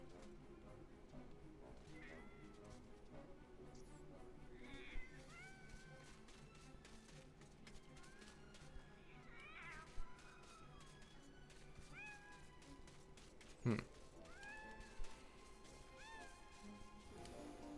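Cats meow repeatedly in the MediEvil video game, with short rising and falling cries scattered over a low, steady ambient game background, plus a few louder thumps.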